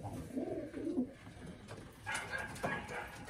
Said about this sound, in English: These birds are nice.